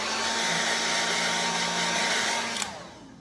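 A handheld blow dryer roars steadily at close range, blasting loose hair off the skin during a barber's self-haircut, then cuts off and winds down near the end.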